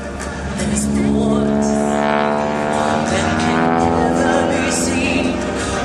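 A Harvard T-6 propeller aircraft pulls vertical into a tail slide at an airshow, its radial engine droning loud and steady with shifting pitch as it climbs and slips back, close and unbroken.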